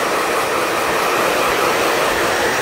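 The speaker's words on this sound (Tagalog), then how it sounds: "Tapos, blower na natin to." A hair dryer blows continuously while drying medium-length layered hair after a haircut, a loud, steady, close whooshing roar with no pauses or talk.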